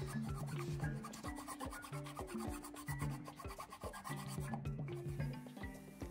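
A file rasps rhythmically against metal, widening a chainplate hole on a Hallberg-Rassy 312 sailboat: close, steady back-and-forth strokes with a scraping buzz on each pass, alone without talk.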